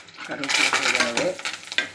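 Curry leaves dropped into hot oil for idli sambar, a brief sharp crackling sizzle with a few clinks of a spoon against the pan, close and alone.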